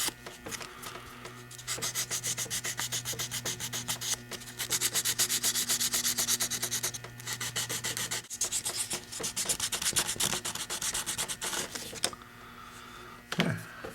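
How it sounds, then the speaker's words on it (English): Fine sandpaper rubbing over dried putty during a knife restoration, rapid rhythmic back-and-forth scratching strokes in bursts with short pauses, close but fairly quiet. "we'll take some real fine sandpaper and just sand this down so that it's good and smooth"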